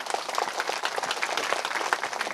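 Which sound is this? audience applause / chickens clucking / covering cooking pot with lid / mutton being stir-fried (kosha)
audience applause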